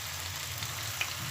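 Onions frying in a pan until golden for a spicy capsicum chicken dish, giving a steady, moderately soft sizzle with no talking over it.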